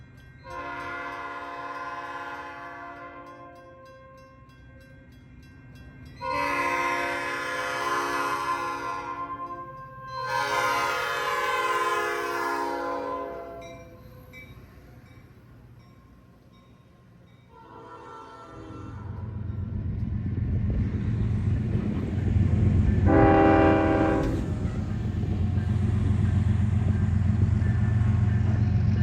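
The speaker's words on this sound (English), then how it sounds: "What you just heard were Nathan Airchime horns" Nathan Airchime P5 and K5HL train horns sound in Ashburn, Chicago: three loud sustained blasts, then the deep rumble of a passing train with another horn blast over it. Nobody speaks.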